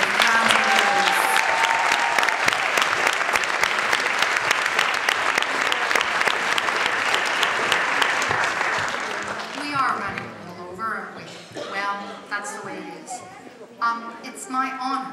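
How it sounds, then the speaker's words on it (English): A large audience at the LeicestHERday Jubilee Awards breaks into sustained, dense clapping that carries loudly for several seconds, then thins into scattered claps amid crowd murmur and voices. "a massive round of applause"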